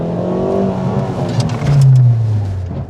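A car revs hard and skids in a straight line during stunt driving training, the engine droning loud and close with rising and falling pitch, a tyre screech swelling near the end.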